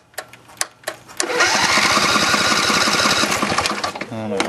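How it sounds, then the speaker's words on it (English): A Kubota tractor engine cranks and catches after a few faint clicks, then runs with a loud, rapid, knocking chug close by. "The motor still runs."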